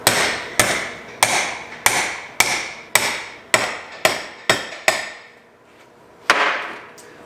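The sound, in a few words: hammer striking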